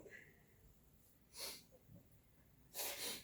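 Human sneezes in a small room: two sharp, breathy bursts arrive a little over a second apart, the second one stronger and longer, with faint breathing between them.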